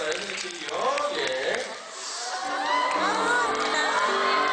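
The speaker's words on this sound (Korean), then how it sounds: "박수 주시기 바랍니다" A fan-meeting audience for actor Lee Joon-gi cheers and whoops, giving excited crowd shouts and squeals that swell after a brief dip, with a voice over a loudspeaker mixed in.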